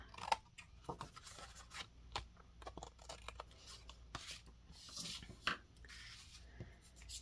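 Quiet, intermittent snips and rustles of scissors trimming paper for a handmade card, a series of short crisp cuts with pauses between them, close and soft.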